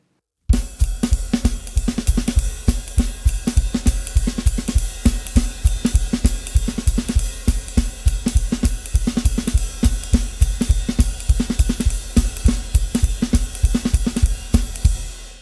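A drum kit playing a quick jazz beat, a brisk even pulse of kick and cymbal hits with crisp accents, steady and loud throughout with no talking.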